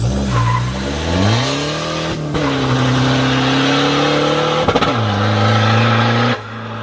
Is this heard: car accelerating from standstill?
yes